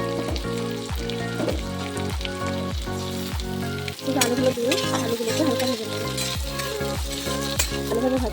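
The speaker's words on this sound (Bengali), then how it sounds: "আলুগুলো দিয়ে আলুগুলোকে হালকা ভেজে নেব।" Lightly mashed potatoes fry in a pan for an egg omelette curry, giving a continuous close sizzle with occasional stirring over soft background music.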